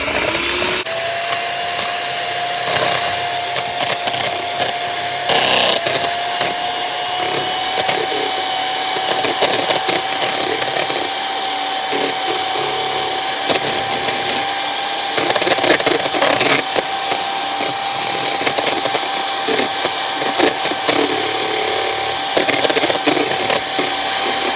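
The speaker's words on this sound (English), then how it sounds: "So I'm just gonna whip these until they form stiff peaks." Electric hand mixer steadily whipping egg whites to stiff peaks for chili relleno balls, a continuous close motor whine holding one pitch for the whole stretch, with faint bowl scraping and no talking.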